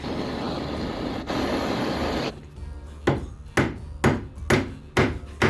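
A rusty nail heated with a blowtorch is hammered flat into a miniature chisel: after a low roaring stretch, six sharp metallic hammer blows ring out in a steady rhythm, loud and close.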